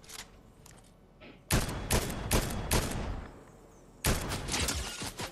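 Rapid bursts of automatic gunfire in a Fortnite competitive match, with loud clustered volleys in the first half and a renewed burst near the end, no talk.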